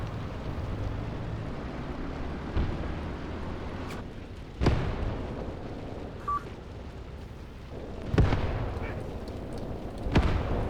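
Tank cannon fire in the tactical war game Graviteam Tactics: four or five sharp, booming shots spaced several seconds apart over a low rumbling engine and battlefield background.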